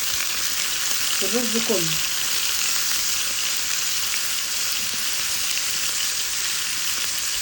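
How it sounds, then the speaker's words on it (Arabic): Chicken livers and gizzards being quickly sautéed in a pan as stuffing for chicken with rice, a steady soft frying sizzle throughout, with someone briefly speaking over it early on. "يا دوب بس يتشوحوا تشويحتين"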